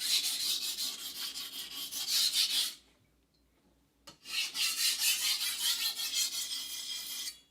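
A knife is sharpened on a 300 grit whetstone with steady, rhythmic rasping strokes, close and clear, pausing for about a second before the scraping resumes.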